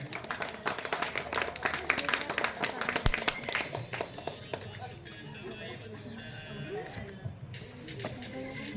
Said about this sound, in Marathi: त्यासाठी टाळ्या जोरात वाजवा